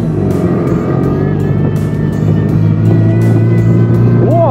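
A tractor fitted with crawler tracks in place of its wheels drives close by, its engine droning loudly and steadily, with regular clanking knocks from the tracks.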